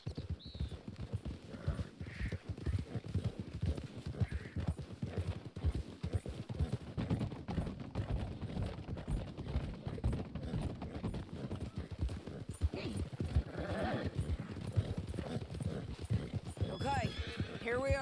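Horses in the video game Red Dead Redemption 2 beat out steady clip-clopping hooves throughout, with occasional whinnies breaking through, while characters talk over the riding.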